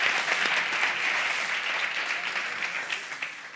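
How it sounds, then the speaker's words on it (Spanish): Audience applause fills a comedy stage show, a steady dense clapping from a live crowd that holds at even loudness throughout and tapers slightly at the end. "Són aquelles persones que s'aplaudeixen a si mateix, eh?"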